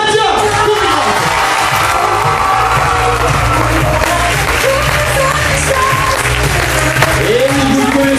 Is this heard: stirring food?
no